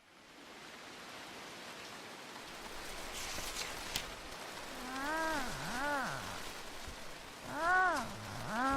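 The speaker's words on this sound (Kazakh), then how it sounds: "Жаңбыр." Rain falls in a steady, even hiss throughout, with a few wavering tonal sweeps rising and falling over it in the second half.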